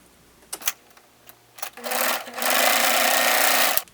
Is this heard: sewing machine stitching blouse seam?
yes